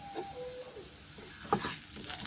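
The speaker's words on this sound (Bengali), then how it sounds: "ধনের গুঁড়ো আর সামান্য একটু গরম মশলা দিয়ে আমি এটাকে ভালোভাবে কষিয়ে নিচ্ছি" Spices with coriander powder and a little garam masala sauté in a pan, a soft sizzle with brief stirring scrapes and one sharper clatter.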